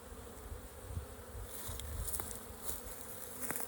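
Honey bees in an opened hive make a dense, steady buzzing hum close by, continuous throughout with small swells and a few sharper wing whines standing out.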